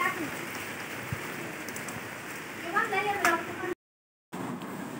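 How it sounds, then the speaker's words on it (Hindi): Heavy rain pours steadily outdoors, a dense continuous hiss throughout, with a brief spoken exchange in Hindi partway through and a short dropout near the end. "बारिश तेज़ हो गई है"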